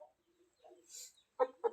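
A rooster gives a few soft, scattered clucks, then two sharper, louder clucks close together near the end, with no talking.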